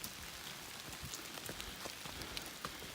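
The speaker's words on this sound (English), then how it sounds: "when I'm walking in this rain, yesterday and today" Rain falls steadily on the Appalachian Trail, a soft, even patter of many drops on surfaces with scattered louder individual hits, fairly quiet and continuous without any talking.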